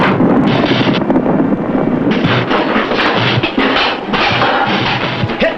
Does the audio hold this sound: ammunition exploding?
yes